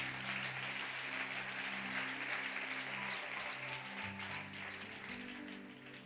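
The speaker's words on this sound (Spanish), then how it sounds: "Denle un aplauso fuerte a Jesús." A church congregation claps for Jesus in steady, dense applause that carries on for several seconds at even strength, with organ or keyboard chords held underneath.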